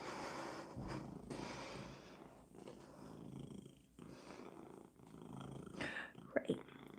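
A cat purrs close by in a steady, continuous rumble with a couple of brief sharper noises near the end, alongside some background talk.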